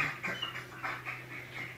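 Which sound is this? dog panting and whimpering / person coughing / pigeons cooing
dog panting and whimpering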